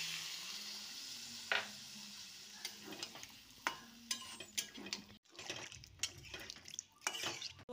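Potatoes and vegetable stems sizzle in a pan as water is poured in, then a spoon or spatula scrapes and clinks against the pot in a steady series of stirring strokes, fairly quiet and close.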